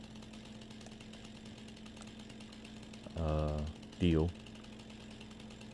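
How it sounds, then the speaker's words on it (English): A chainsaw revs twice in quick bursts in Farming Simulator 19, fairly close and loud over a quiet background, with someone speaking briefly. "So what we can do is rotate our chainsaw into a"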